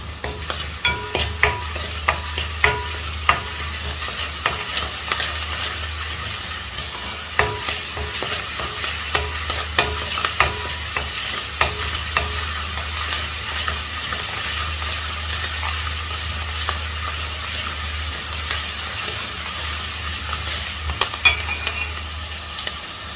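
Green apple pickle mixture with curry leaves being stirred in a pan, repeated spoon scrapes and knocks over a constant low sizzle and hum, close and ongoing.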